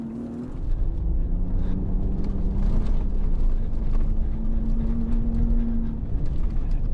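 A 2025 RAM RHO truck on tires aired down to about 25 PSI runs fast across a dry lake bed, a steady close engine drone with rumbling road and wind noise and a rising tone.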